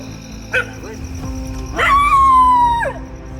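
A dog gives a short bark, then a drawn-out whining yelp follows, loud and close against a quiet background.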